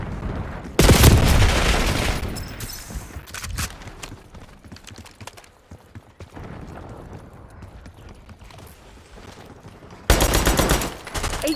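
Call of Duty Black Ops 6 match with bursts of shotgun and automatic gunfire, a loud blast near the start and another heavy burst near the end, scattered rapid shots between.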